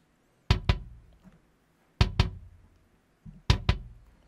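Kick drum sample from Addictive Drums 2 with the beater mic at full level, heard as three pairs of sharp, punchy double hits with a clicky attack and short decay, alone and clear.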